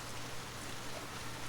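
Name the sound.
heavy rain falling outside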